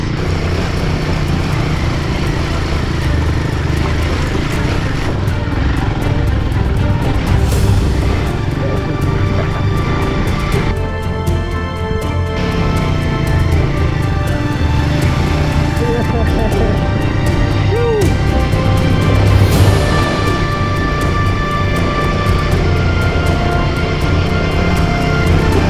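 Royal Enfield Himalayan 450 motorcycle climbing a long uphill stretch, its engine a steady loud drone with continuous wind rush, and a voice faintly present beneath it.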